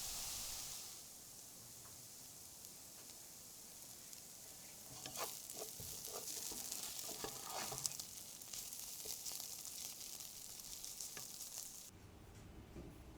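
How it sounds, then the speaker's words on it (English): Onions in a frying pan give a soft, gentle sizzle, with light crackles and pops over a steady quiet hiss. "the onions no longer sweat and instead start to caramelise, and this brings with it a much gentler sound"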